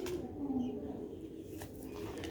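A pale pigeon coos in a few low, soft calls near the start, followed by quieter ambient rustling.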